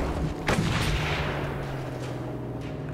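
Sniper gunfire in the Mad Max video game, with a loud sharp shot ringing out once and trailing into a long rumbling echo over a steady low engine-like drone.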